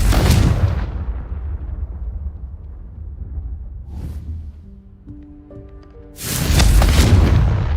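A Confringo explosion spell goes off in Hogwarts Legacy with a loud booming blast at the start, a long rumbling tail, a brief crackle midway, and a second heavy explosion near the end.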